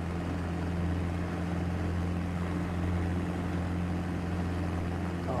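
A de Havilland Chipmunk's single engine and fixed-pitch propeller in flight make a steady, loud droning hum that holds constant throughout, heard from inside the cockpit with no talk.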